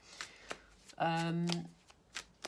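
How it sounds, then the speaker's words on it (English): Tarot cards being shuffled by hand in several quick riffling bursts, close and clear, with a voice speaking over part of the sound. "I'm going to tie it up with 3 or 4 tarot cards, usually 4, because I don't like pulling 3 cards."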